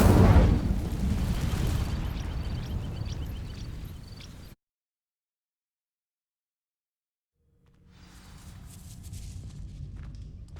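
Incendio fire spell igniting dry vines in Hogwarts Legacy, a loud near whooshing burst of flame that roars and fades, then silence before a quieter rumble returns.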